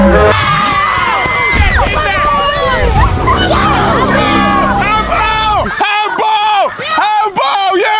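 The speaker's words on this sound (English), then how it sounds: "Hey, the crowd's going crazy." A crowd of children shouts and cheers wildly at a kids' football match played on a giant slip 'n slide, with a dense, loud roar of overlapping voices that breaks into separate excited yells near the end.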